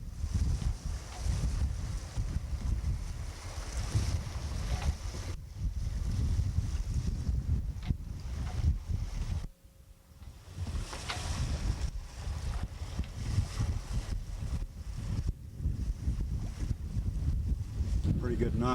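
A sailboat under sail heading back to Juneau, with wind buffeting the microphone and water rushing and slapping against the hull in a steady, loud wash that dips briefly midway.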